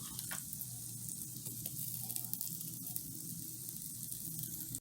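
Breakfast sausage sizzles on a pancake in a pan, giving a steady, close frying hiss that runs unbroken with no talk.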